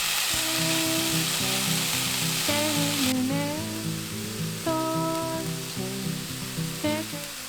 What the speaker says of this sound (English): When we saute the whole mixture, don't skip this step